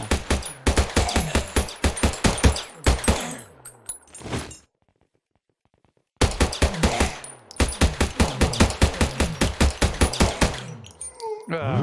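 Video game gunfire aimed at zombies, with rapid bursts of loud sharp shots in quick rhythmic volleys, a pause of silence in the middle, then another long burst of repeated shots.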